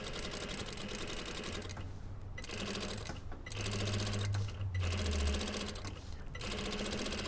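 Sewing machine running in steady bursts along a shirt's centre front edge, a close, continuous mechanical whir with short pauses between runs of stitching.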